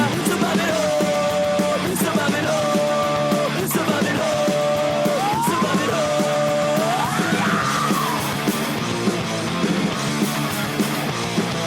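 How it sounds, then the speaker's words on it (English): Harsh vocal screaming rides over a loud, dense hardcore punk song played back, with distorted guitars and pounding drums running continuously throughout. "there's like screaming or something"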